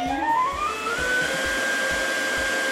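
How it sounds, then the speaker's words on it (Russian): The impeller of the electric ducted fan in a Freewing F-35 RC model jet, powered by a 4S battery through a servo tester, spins up with a rising whine and then holds a steady high-pitched whirring rush. "не могу удержаться, не проверить работу мотора, импеллера и регулятора"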